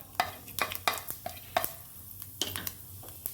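Bay leaf and fennel seeds dropped into hot oil to temper, a light crackling sizzle alongside quick clinks and scrapes of a spoon against the pan, close by and with no talking.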